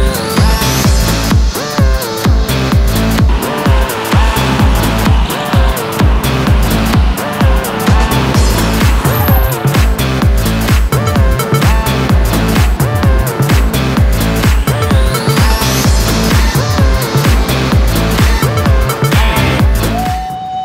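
A race car on a track at full throttle, loud and continuous, the engine note rising and shifting steadily with no pauses and no talk.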